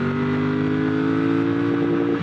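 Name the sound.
Triumph Bonneville Bobber motorcycle accelerating in first gear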